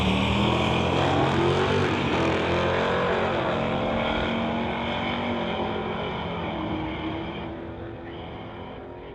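Two street-legal cars, a 1978 Chevrolet Malibu and a 2019 Dodge Hemi, drag racing at a MOPAC strip, a loud sustained engine roar close by that slowly fades as the cars pull away, with no talk over it.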